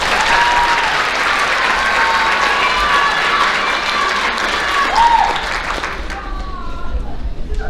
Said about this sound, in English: please give each of these young ladies a round of applause